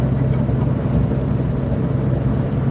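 Semi truck with a loud engine running in cold winter weather, heard as a steady, close, heavy low drone that continues without a break.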